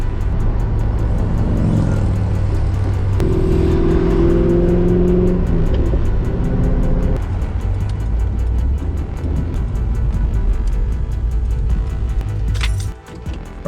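A Mini Cooper engine revs loudly and steadily, its pitch rising and holding in surges before dropping back near the end, with no voices over it.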